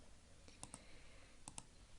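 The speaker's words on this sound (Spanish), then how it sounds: "Y damos clic en aceptar." Mouse clicks in computer software, heard as two quick pairs of sharp, light taps about a second apart, close and fairly quiet over faint room noise.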